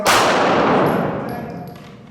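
A single sharp, loud rifle shot with a long ringing decay that fades over about two seconds.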